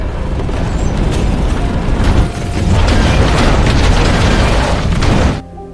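A container ship blows up after spilled oil catches fire in a movie disaster scene, a loud sustained roaring blast with debris crashing, holding for several seconds before cutting off abruptly.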